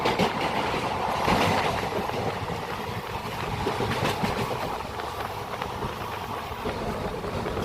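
A train runs at speed past tea gardens near Siliguri, a loud, steady rumble with rhythmic clickety-clack of wheels on rails and no talking.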